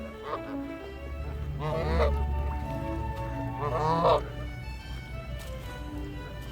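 Canada geese give repeated nasal honks in two clear bursts over steady low background noise, moderately close, with a narrating voice running along beneath.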